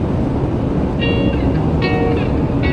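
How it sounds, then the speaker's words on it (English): A train passes through New Mexico as a continuous loud rumble fills the scene, with a few short, high, tonal squeals or horn-like bursts rising above the steady roar. "And we got ourselves a train coming through."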